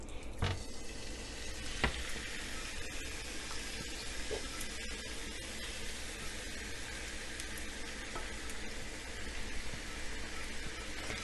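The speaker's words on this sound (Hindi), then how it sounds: "कलेजी हमारी रेडी है। हम इसको यहाँ रखते हैं और इसको डालते हैं इसमें गरम तेल में" Chicken liver (kaleji) going into hot oil on a tawa, with a faint, steady hiss of sizzling and a few small pops and clicks, heard alone without talking.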